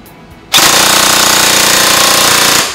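A loud, rapid mechanical burst of full-auto fire from a G&G airsoft replica, a steady buzzing rattle that starts abruptly and runs for about two seconds before cutting off.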